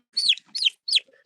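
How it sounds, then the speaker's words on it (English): A lone baby turkey gives three quick, high chirping calls close by, evenly spaced with short silences between them. "Got 1 baby turkey alone now."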